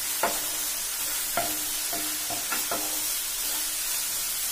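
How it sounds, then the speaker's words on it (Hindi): Paneer bhurji with spices sizzling in a pan over high heat, a steady frying hiss throughout with several distinct scrapes and knocks of a spoon stirring, close and alone. "अब इसको हम तेज आंच से चला लेते हैं।"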